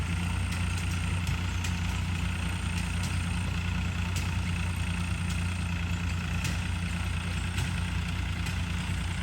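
An unloaded tractor engine idles slowly with a steady low rumble and faint rhythmic ticking, continuous and close, with no talking.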